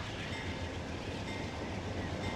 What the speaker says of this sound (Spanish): Ahí se marcha el trenecito.